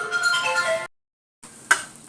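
A phone ringtone for an incoming call plays in a home kitchen, a short bright electronic melody that cuts off abruptly, followed by silence and then a faint ping.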